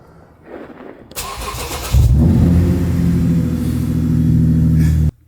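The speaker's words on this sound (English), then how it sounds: "But let's cold start the car." A starter cranks briefly before a car engine catches and roars to life, then settles into a loud, steady idle until it abruptly cuts out.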